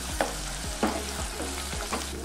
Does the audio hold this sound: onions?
yes